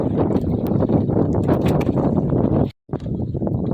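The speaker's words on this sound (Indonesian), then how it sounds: "cuaca angin kencang, arus juga." Strong wind at sea over a fishing boat: loud, gusty buffeting and a low roar that blasts the microphone, cutting out for a moment near the end before resuming.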